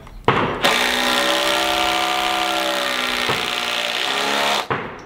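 A cordless triple hammer power tool on a front porch build for a hunting cabin whirs at high speed in two sustained runs, loud and close, with a brief pause between them and no talking.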